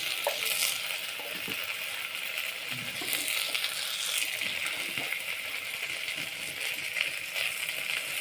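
Spices frying in hot oil for vaseti bhaji, a Gujarati monsoon leaf dish, with a steady close crackling sizzle and occasional stirring clinks throughout.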